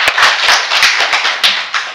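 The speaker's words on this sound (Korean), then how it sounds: "주님께 감사 박수." A church congregation bursts into applause of thanks during worship, a loud, dense round of clapping with sharp individual claps standing out, close and steady for the whole stretch.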